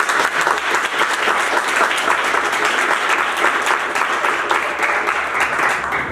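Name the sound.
audience applauding loudly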